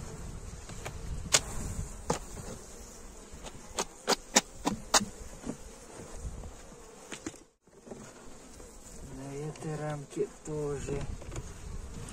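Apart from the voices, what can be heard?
honeybees buzzing on hive frame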